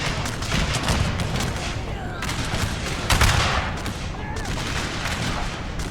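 Musket volley fire from East Indies infantry in a Total War battle, a dense continuous crackle of gunshots with heavier booms around the three-second mark, loud throughout with faint voices mixed in.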